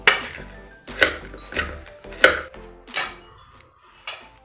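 Crisp puffed-rice bhel tossed with a spoon in a bowl, giving about seven sharp scraping, clinking strokes in an uneven rhythm, close and fairly loud with no voices.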